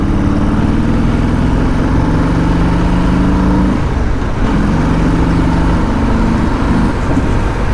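A Harley-Davidson Fat Boy motorcycle on a highway, its engine roaring loud and close with steady rising drones that dip briefly midway, then climb again over constant wind rush.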